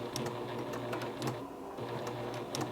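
A Juki Haruka TL-18QVP sewing machine back stitching on a patch, with a steady, fast mechanical rattle of needle strokes and faint rhythmic clicks, fairly quiet and close.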